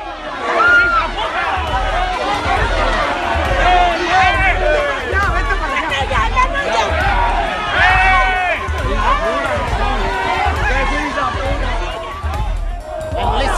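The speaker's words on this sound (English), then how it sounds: "Chant from the crowds" Pro-secessionist voters in Catalonia form a dense, loud crowd whose voices rise and fall together in rhythmic chanting, with steady babble and shouting filling the space throughout.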